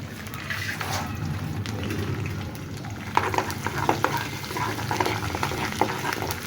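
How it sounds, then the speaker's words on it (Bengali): Garlic lightly frying in a pan for a sweet and sour chili pickle, a steady close sizzle with intermittent spoon scrapes and taps as it is stirred. "রসুনটাকে আমি এখানে হালকা একটু ভেজে নিচ্ছি"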